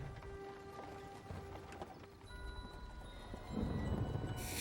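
Horse hooves clop in a steady galloping rhythm through a Sleepy Hollow film scene, mid-distance and set against a layered film score, swelling louder toward the end.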